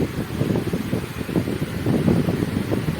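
An electric fan runs indoors with a steady, fluttering whoosh of moving air, close and constant.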